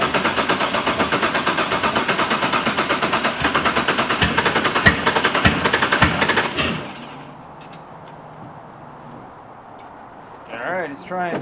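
A Chevrolet LS1 V8 swapped into a C3 cranks on its first start attempt with a rapid, loud rhythmic churning for about seven seconds, then stops, leaving quiet with a brief squeak near the end.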